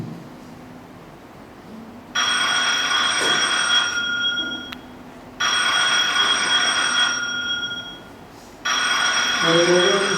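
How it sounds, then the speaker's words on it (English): Phone ringing with an incoming call, three long bright electronic ring bursts with pauses between them, loud and close over a low background hum. "Now you'll notice here, the phone's ringing"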